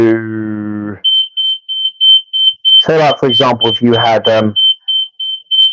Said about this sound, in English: Sorry, that was the alarm.